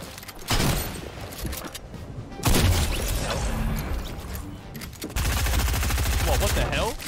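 Gunfire in Fortnite Chapter 2 crackles in dense, rapid bursts that come and go, with loud stretches of sustained shooting under people talking.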